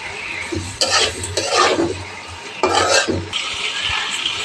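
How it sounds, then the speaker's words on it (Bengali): Ginger, garlic and onion paste is stirred in a hot pan, giving a steady close sizzle with scraping strokes of the spoon that repeat in several bursts. "এখানে একে একে সব মশলা দিয়ে দেব। আদা বাটা, রসুন বাটা, পেঁয়াজ বাটা। তো একটু নেড়ে চেড়ে দিলাম।"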